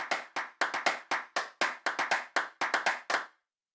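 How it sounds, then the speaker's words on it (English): Crisp hand claps from a trap and twerk sample pack play alone in a steady sequence of about fourteen sharp hits, each with a short decaying tail, close and clean. "the sample that I want to bring in is some hand claps"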